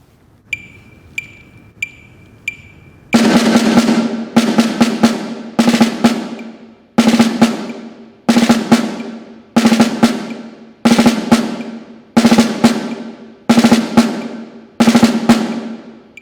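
Snare drum working through a quarter note and eighth note triplet exercise, preceded by a few light metronome clicks, then repeated crisp rhythmic bursts of strokes in regular groups, close and dry, with no talking.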